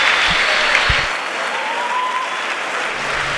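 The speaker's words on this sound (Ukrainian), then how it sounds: "Глядачі і ми аплодуємо Богдану Копкіну" Spectators at a fight applauding at the bout's end, a steady wash of clapping from a crowd, loud and sustained with a few sharper claps near the start.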